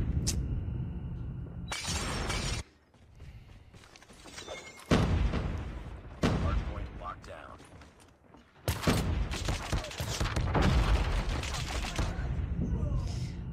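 Shotgun blasts in the Call of Duty Mobile video game, several sharp, loud bursts separated by short gaps, mixed with in-game mechanical clatter and effects.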